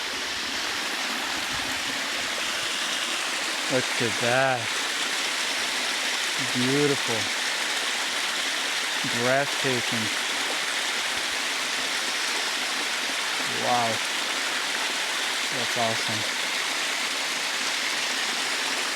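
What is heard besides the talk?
hidden jungle waterfall in Puerto Vallarta, water running down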